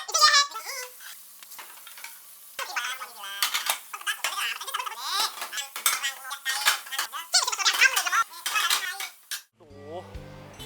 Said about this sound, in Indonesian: Silahkan cuci dulu piring, ya.